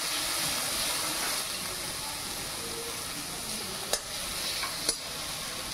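Onions cooking in a pan on a home stove, giving a steady soft sizzle with light stirring and two sharp utensil clicks near the end, no voices.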